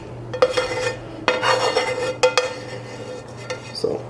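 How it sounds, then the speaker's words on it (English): A spoon stirs onion and celery into stuffing in a bowl, producing scraping, knocking clinks against the dish in several separate bursts, close and moderately loud, with no talking. "So we give it a good stir."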